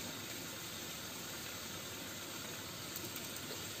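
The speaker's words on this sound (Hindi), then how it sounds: "हम गोलगप्पों को हाफ फ्राई करेंगे" Semolina golgappa puris sizzle as they half-fry in hot oil over a medium flame, a steady, dense crackling hiss that runs unbroken throughout with no voices.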